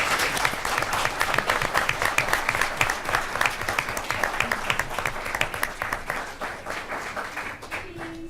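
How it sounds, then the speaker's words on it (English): At a school board meeting, an audience claps for a group of girls, rapid distinct handclaps forming a moderately loud, sustained round that thins out before a faint voice at the end. "And now, if we can give a great big round of applause for our girls."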